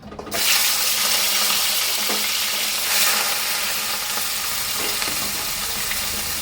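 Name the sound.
frying gugli snails in hot oil in a wok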